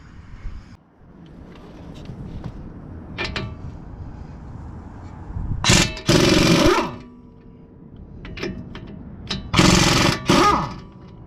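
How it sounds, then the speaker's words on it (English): A hammer pounds splined strut bolts out of a 2015 Ford Explorer during strut replacement, giving two loud bursts of metallic banging against a steady workshop hum, with no talking. "pounding really hard to get these out, because I didn't know they were splined"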